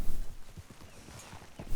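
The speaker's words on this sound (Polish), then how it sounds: "ale Dutch ma konia ładnego" Horse hooves clip-clop at a steady walking rhythm in the video game Red Dead Redemption 2, a soft, muffled patter under a faint background wash.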